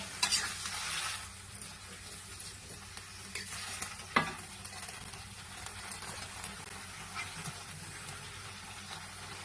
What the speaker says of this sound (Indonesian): Ya, kita aduk sampai benar-benar empuk dan matang ya.